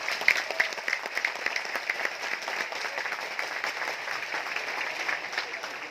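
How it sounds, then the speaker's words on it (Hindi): Large audience at a talk in Mumbai clapping loudly for themselves, a sustained, even roar of many hands with a few sharper claps near the start. "हम स्वयं के लिए बहुत ज्यादा जोर से तालियां बजा सकते हैं"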